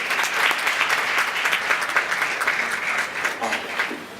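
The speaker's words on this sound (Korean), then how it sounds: "큰 박수 부탁드리겠습니다" Dense, continuous applause from a conference audience at a mobile security talk, a steady wash of many hands clapping at moderate loudness for a few seconds, with no voices over it.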